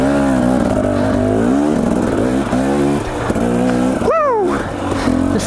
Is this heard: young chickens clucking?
no